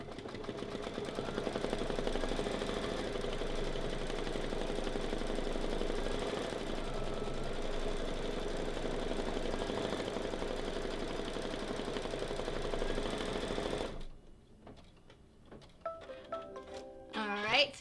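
A ScanNCut embroidery machine stitching out a design, a steady close mechanical hum and rapid needle chatter that runs continuously and then stops, followed by quieter handling sounds.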